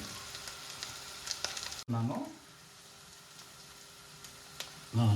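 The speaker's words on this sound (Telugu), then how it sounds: "ఇప్పుడు కలుపుకుంటున్నాను. ఇంకా మంచిగా మిక్స్ చేసుకుంటున్నాను." Ginger chicken sizzles and fries in a pan as salt and chili are stirred in, with a soft crackling hiss throughout and a few louder scraping stirs at about two and five seconds.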